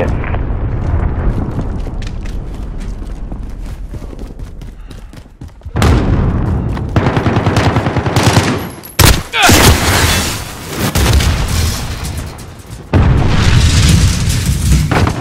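Cruise missile strike explosions and gunfire in Call of Duty: Modern Warfare, loud booming blasts and rattling fusillades in heavy bursts, with a quieter stretch before the impacts and game voices talking amid the combat.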